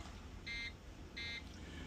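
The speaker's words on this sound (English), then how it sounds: "I will check the low air pressure warning light and the buzzer." A truck's low air pressure warning buzzer sounds in short repeated beeps, three pulses at an even rhythm, over a quiet low rumble in the cab.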